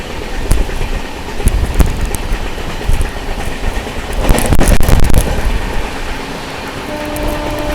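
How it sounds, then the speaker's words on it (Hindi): Loud rumble and rhythmic clatter of rail cars fill the scene as a train passes during a crossing with the Mewar Superfast Express, heard from aboard the Goa Sampark Kranti Express. "अपनी क्रॉसिंग होगी थोड़ी देर में मेवाड़ सुपरफास्ट एक्सप्रेस के साथ"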